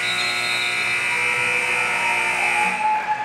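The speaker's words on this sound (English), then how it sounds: "Buzzer sounds" A steady, harsh electronic buzzer at an 8th grade boys' basketball championship game drones continuously at a constant pitch, loud and unbroken, fading slightly at the very end.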